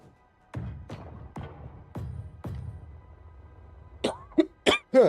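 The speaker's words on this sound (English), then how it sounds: "This is why those coughing fits are starting to come in." A coughing fit of five harsh, evenly spaced coughs in a row, close to the mic, followed by a few sharper, strained throat-clearing bursts, with no talk.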